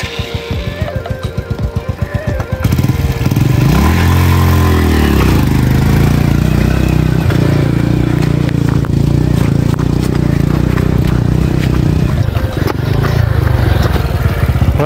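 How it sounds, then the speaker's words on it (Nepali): A motorcycle labours up a steep mountain road toward Dhorpatan, Nepal, its engine a loud, steady drone with a brief rising and falling whine partway through; a voice may briefly be heard. "बाइकलाई हाई लाग्यो क्या यार"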